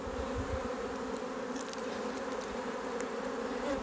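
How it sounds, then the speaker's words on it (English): Dense, steady hum of a swarm of honey bees as they are gently shaken off a hive frame while moving a nucleus colony up into a full-size box, a continuous close buzzing drone with no talk. "gently shaking them off so he gets rid of the bees that are chaining"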